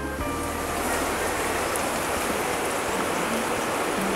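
Eggplant goes into a pan of browning potatoes for aloo baingan, setting off a loud, steady, close sizzle of frying oil that continues without a break and with no talk.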